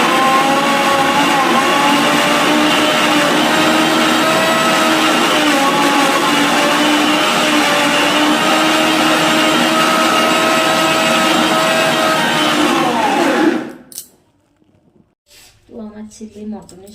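A kitchen mixer grinder grinds spices for a mutton dish, a loud, steady motor whir for about thirteen seconds that then cuts off abruptly, leaving quiet with a few faint handling sounds.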